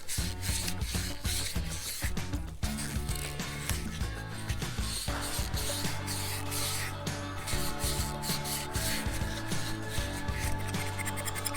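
A Scotch-Brite pad scrubs crud from the carburetor of a Predator 4000-watt generator with busy, close rubbing and scraping, full of small clicks and knocks, steady throughout with no talk.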